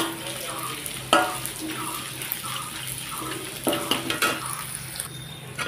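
Taro chips fry in hot oil, giving a busy bubbling sizzle with occasional sharper splashes and scrapes as pieces are stirred and lifted out; no one speaks.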